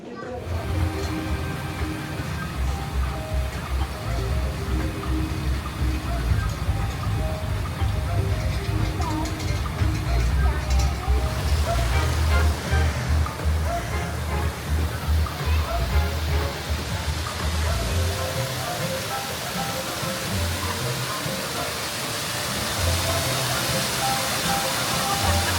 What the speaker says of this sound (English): Love the waterfalls there